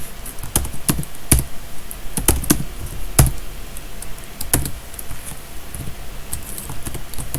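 Computer keyboard keys are typed in scattered, uneven bursts of sharp clicks and taps while a macro is being set up, close and fairly loud over a soft room hiss, with no speech.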